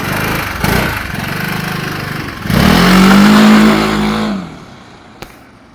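A Yamaha XMAX 300 scooter fitted with a 76mm TDR 350cc kit revs hard on a dyno, its engine climbing to a loud, close whine and holding there before falling off to near silence with a brief knock at the end.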